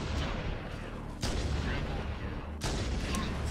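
Gunshots from Halo: The Master Chief Collection boom in two sharp, loud bursts over constant game noise, with a player's voice in the background.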